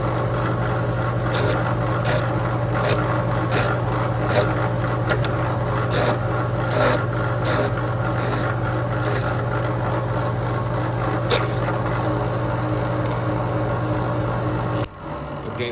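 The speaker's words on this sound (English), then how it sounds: "I use an Irwin 1/4 inch high-speed countersink bit, and it seems to work a little bit better for me" An Irwin 1/4 inch high-speed countersink bit bores into a wooden stud in a leather shop, a steady high whirring drill with rhythmic scraping bursts, cutting off near the end.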